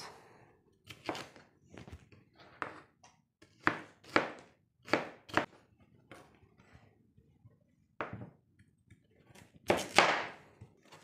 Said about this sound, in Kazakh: Болгар бұрышымызды тураймыз